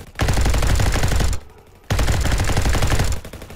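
Gunfire in a Call of Duty-style Roblox shooter: two loud sustained bursts of rapid automatic fire separated by a short pause, close and dominant with no talking.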